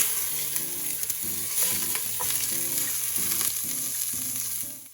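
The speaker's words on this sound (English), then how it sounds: "Did you hear that? That is the sizzle that we want." Beef short ribs searing in hot oil for nilaga, a steady loud sizzle and crackle close by with faint stirring, no voices, fading out at the very end.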